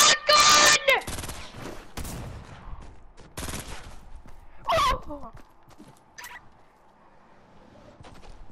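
Shotgun blasts in Fortnite ring out as several sharp, loud bursts among clattering game sounds, with voices talking excitedly over them.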